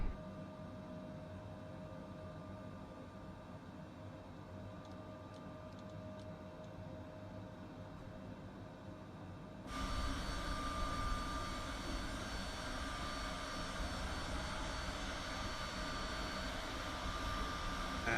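A Citation CJ4 business jet's engines in a flight simulator, flying near Bermuda, hold a steady low drone that jumps sharply louder partway through and stays loud and constant after that.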